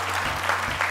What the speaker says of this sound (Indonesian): Boleh tepuk tangan sekali lagi untuk Jelita.